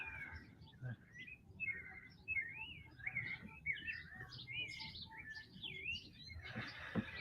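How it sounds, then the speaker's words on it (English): Birds chirp and warble in the background almost without pause, with many short rising and falling calls over a low outdoor hum. "love the birds in the background"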